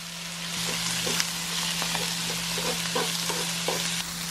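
Pork, onions and carrots for Tokyo-style yakisoba fry steadily in a hot pan with constant broadband sizzle and scattered stirring scrapes and clicks throughout, close and fairly loud, no talking.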